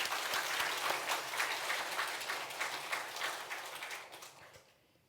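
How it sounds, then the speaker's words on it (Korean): A church congregation at a twentieth-anniversary Sunday service applauding together, a dense wash of clapping from a large room that holds steady, then fades away into quiet. "우리 박수 한번 할까요?"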